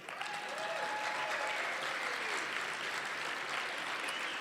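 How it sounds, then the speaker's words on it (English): Sustained applause from a gala audience fills the room, dense and steady throughout, with no speech over it. "please give me a round of applause"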